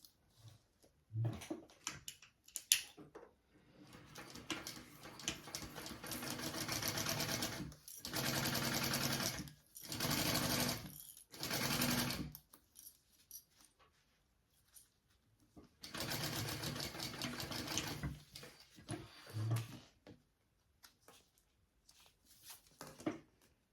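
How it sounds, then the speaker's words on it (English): A sewing machine sews a seam on a bag in several bursts of steady whirring stitching separated by pauses. It is fairly faint, with small handling noises in the gaps. "now I'm going to sew that on at my seam allowance"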